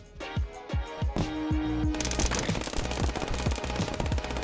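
Rapid gunfire in the video game FPS Chess: a series of sharp, evenly spaced shots, one short burst after another, followed by a denser stretch of continuous firing with a steady background roar. No voices.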